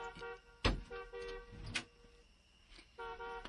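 A car horn sounds in several short, close honks of uneven length, with a sharp knock and some faint rumble between them.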